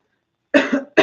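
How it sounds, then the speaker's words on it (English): A woman coughs twice after a brief silence, close and loud, the first cough longer and raspy and the second short and sharp. "I cannot get rid of this cough for the life of me."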